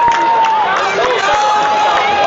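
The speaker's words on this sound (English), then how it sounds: "Lehi fans are clapping over here" Lehi fans clap in the stands at a high school football game against American Fork, a steady crowd roar with scattered claps under a commentator's talk.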